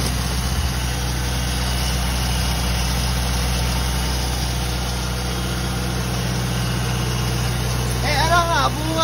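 A vehicle engine idles steadily right after a starter repair, a low, even hum close by, and someone speaks briefly near the end.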